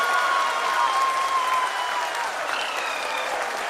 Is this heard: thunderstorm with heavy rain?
no